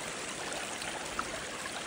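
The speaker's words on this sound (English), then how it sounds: "here you can see all the water in the orchard is actually coming through the stone wall." Storm floodwater pours through a stone wall in an orchard, a steady close rushing stream that runs on without pause.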